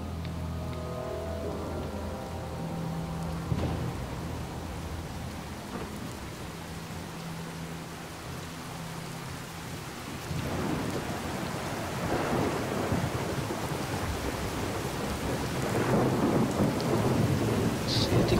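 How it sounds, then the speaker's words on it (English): Steady rain hisses through a thunderstorm in the video game Fallout 4, with a low rolling rumble of thunder early on and heavier, louder rainfall building over the last eight seconds, with no talk. "it's starting to rain again."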